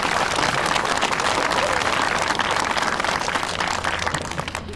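An audience applauds at a school event: a dense, steady wash of clapping that holds loud for several seconds, then fades slightly near the end.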